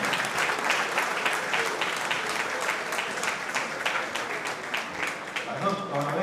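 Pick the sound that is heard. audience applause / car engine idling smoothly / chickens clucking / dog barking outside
audience applause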